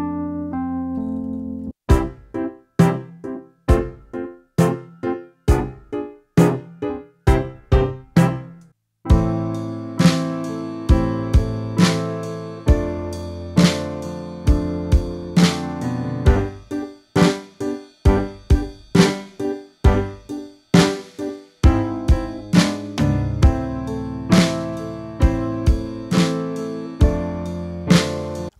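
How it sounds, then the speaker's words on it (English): Wurlitzer electric piano from the Native Instruments Vintage Keys library with tremolo engaged, playing sparse chords at first and then fuller repeated chords with a steady pulse, close and clear with no voices. "let's record a little Wurlitzer. So I got the Native Instruments Vintage Keys Wurly here."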